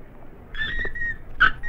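A puppy whimpers in two short, high, whistle-like cries, the first drawn out and the second a brief sharper yelp, close by with no talk over it.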